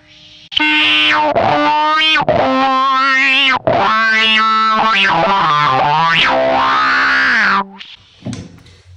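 Electric guitar through a Danelectro Food Series wah pedal, loud distorted notes swept with vocal-like wah sweeps rising and falling, a series of phrases before fading out.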